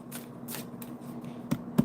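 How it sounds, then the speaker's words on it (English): Tarot cards being shuffled by hand, a few quick riffling bursts of paper slaps followed by two sharper taps, close and fairly quiet, with no talking. "I'm going to put those two cards back in and shuffle"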